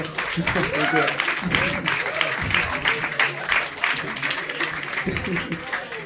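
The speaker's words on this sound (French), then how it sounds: "Applaudissez pas ça, applaudissez" A comedy club audience claps and cheers at a stand-up show, a lively spread of applause running throughout with a comedian's voice talking over it.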